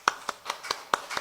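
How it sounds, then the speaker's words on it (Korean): A church congregation at a Sunday service claps a few times in slow, separate beats, the hand claps close and fairly soft against a quiet room. "오늘도 우리에게 귀한 약속 허락하여 주신 하나님께 영광의 박수 올리겠습니다."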